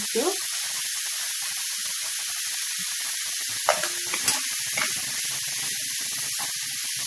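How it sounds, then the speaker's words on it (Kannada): Slices of bread frying in a pan for spicy bread toast give a steady, faint sizzle and hiss throughout, with a few brief clinks and scrapes from stirring midway. "ಈಗ ಒಂದು ಟೂ ಮಿನಿಟ್ಸ್ ಫ್ರೈ ಆಗಲಿ"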